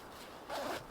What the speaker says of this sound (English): test out the zipper